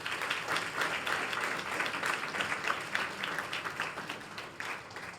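Audience applause for Kelly Lobianco at a workforce forum, a full room clapping steadily for about five seconds, fairly loud and even throughout.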